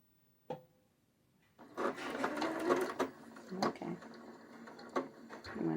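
A sewing machine stitches fabric coasters with a locking stitch, running in a steady, close whir with small bumps and clicks after a brief tap and a moment of quiet.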